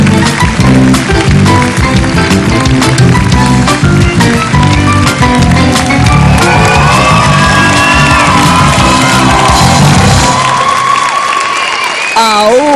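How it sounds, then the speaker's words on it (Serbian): Studio audience at a televised dance competition finale cheering, whooping and clapping loudly and continuously, close and dense, a voice rising above near the end. "Publika toliko zdušno navija za vas večeras."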